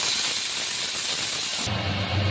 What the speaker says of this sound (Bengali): এরপর প্যানে তেল দিয়ে পটলগুলোকে একটু ফ্রাই করে নিতে হবে।